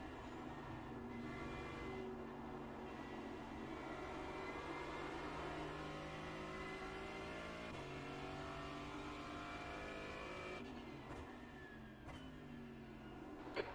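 A GT4 race car laps the Tsukuba circuit in the iRacing sim, its engine a faint, steady drone that shifts pitch through gear changes, with no talking over it.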